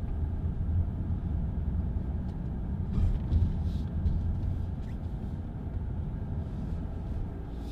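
Interior road noise inside a 2017 Ford Edge Vignale while driving, a steady low rumble of tyres and engine with faint cabin creaks, constant and unbroken.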